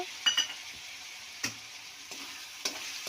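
Boiled field beans (avarekalu) frying in a pan for upma: a faint continuous sizzle broken by several crisp spatula taps and scrapes as they are stirred.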